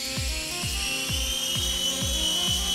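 A small brain-controlled Puzzlebox Orbit toy helicopter's rotor whines at a high steady pitch, with rhythmic low thumps pulsing about twice a second throughout.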